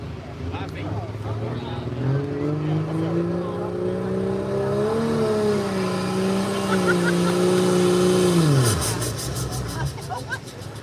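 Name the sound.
turbocharged pulling truck engine revving at truck pull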